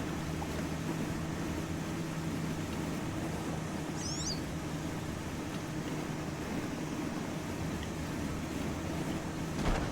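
A boat driving across water in the fishing game Call of the Wild: The Angler, a steady low engine drone with constant wind and water wash and a brief faint bird chirp partway through.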